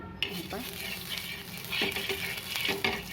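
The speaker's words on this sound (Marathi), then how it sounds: "आता मी खाली थोडंसं तूप लावून घेते तव्यावर" Ghee sizzles on a hot tava as a pizza base is cooked, a steady frying hiss broken by a few scraping, stirring strokes of a utensil against the pan.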